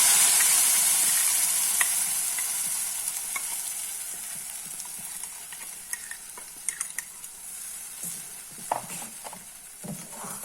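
Green chillies frying in hot oil with popped mustard seeds for a curry leaf chutney, a dense steady sizzle that fades slowly, broken by scattered sharp crackles and spatters toward the end.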